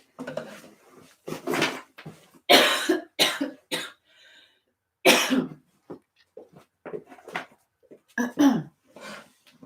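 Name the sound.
coughing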